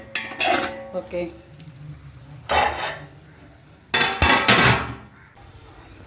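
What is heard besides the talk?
tomatoes being sautéed and stirred in a pot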